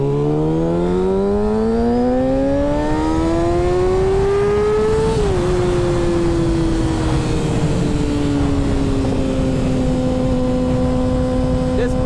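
A 600cc sport motorcycle engine, redlining near 16,000 RPM, revs loud and close, its pitch climbing steadily to a peak, then dropping back and holding a steady high whine.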